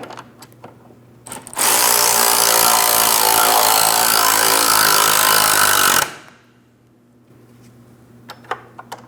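An impact wrench drives home a trailing arm bracket mounting bolt on the rear suspension of a 2004-2008 Pontiac Grand Prix, a loud continuous rattling burst lasting about four seconds, then stopping abruptly into quiet shop background.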